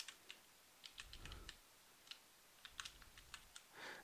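Keys clatter on a computer keyboard while a new Java class name is typed during a rename in Eclipse; a few quick bursts of soft, close clicks with short pauses between them.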